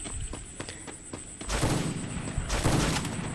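Sniper rifle gunfire in the Free Fire battle game: faint clicks, then two loud, crackling shot bursts in quick succession.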